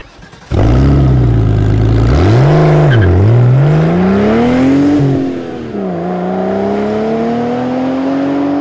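A car engine revs hard several times as the driver accelerates, rising and falling in loud surges close by, then settles into a steadier climbing drone.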